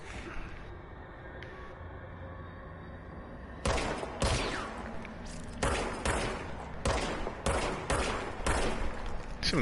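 Unlimited pistol hip-fired in Control, loud, crisp shots arriving in quick uneven bursts after a quieter stretch of low ambient hum, each shot sharp and close.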